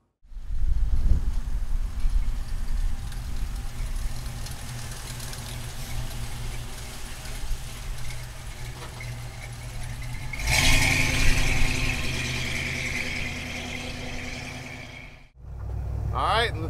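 A 1974 Ford Bronco half cab with a front-mounted V8 idles with a low steady rumble, then revs louder for a few seconds before the sound cuts out and restarts.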